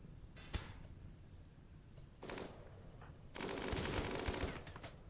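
Gun in a Minecraft and Rimworld game fires, heard as faint crackling bursts. One sharp shot lands early, a short volley follows near the middle, and a longer rattling burst sits over a steady insect-like chirping hum.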